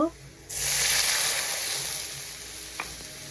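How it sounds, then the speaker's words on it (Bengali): Onions frying in oil in a wok, a loud sizzle that flares up suddenly after a brief quiet start and then holds as a steady, dense crackle with one small clatter near the end. "কড়াই দিয়ে পেঁয়াজ আর তেল ভেজে নিব"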